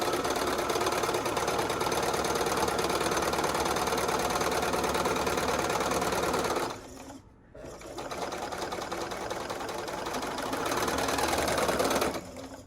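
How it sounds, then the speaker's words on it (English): A sewing machine stitches quilt pieces for a Southwest Snowball quilt in a loud, steady whirring run, briefly stopping near the middle before starting up again and running to the end. "I'm going to sew right to this side"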